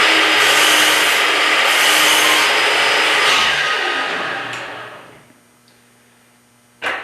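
A hand saw in a miter box rasps through wood in quick back-and-forth strokes, loud and close, then stops, leaving near silence broken by a short knock at the end.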